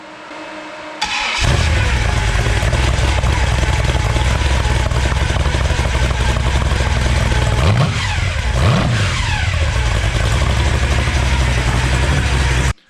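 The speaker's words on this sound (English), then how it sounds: "what looks and sounds so good back here, this is a set of mufflers off a BMW M5" A big block engine exhausting through a set of BMW M5 mufflers fires up and holds a loud, steady rumbling idle close by, with two brief blips of revs near the end before it cuts off abruptly.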